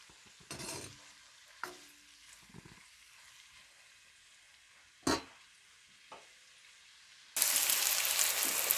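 Jackfruit curry with potatoes fries in a pan, with a few scattered close stirring scrapes and clinks, then a loud, continuous sizzle for the last couple of seconds.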